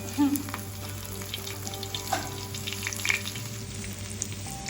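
Pieces of fish sizzle in hot oil in a pan with a steady, close crackle, with occasional brief pops and faint background noises and no talking.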